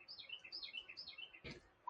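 A small bird sings outdoors among lush summer trees, a run of quick high chirps and warbles repeating steadily, fairly faint, with one louder broadband knock near the end.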